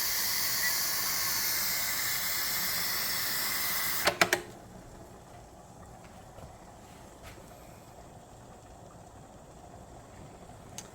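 A loud, steady hiss of steam venting from a pressure canner runs for about four seconds, then cuts off abruptly with a few sharp clicks, leaving a quiet low rumble.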